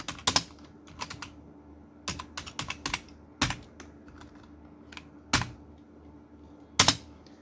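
Fingers type on a computer keyboard close by, clusters of quick key clicks alternating with short pauses and a few sharper, louder presses, with no voices.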